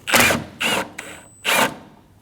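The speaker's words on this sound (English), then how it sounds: "Using a T30 bit, we're going to go through this hole. And we're going to remove the bolt for the AC condenser." A T30 bit working an AC condenser bolt on a 2012-2022 Volkswagen Passat, three short whirring tool bursts close by, each under half a second, separated by brief pauses.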